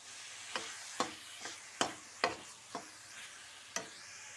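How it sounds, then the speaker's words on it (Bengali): Spoon or spatula stirring carrot halwa with khoya in a pan, giving about seven spaced scraping strokes, each a short sharp swish that fades, with a faint sizzle between them. "এবার আমি মিক্স করে নেব"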